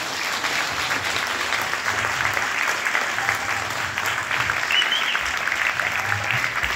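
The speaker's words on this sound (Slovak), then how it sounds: "Takže poprosím veľký potlesk." Warm, sustained applause from a concert audience, many hands clapping densely and evenly for several seconds without pause.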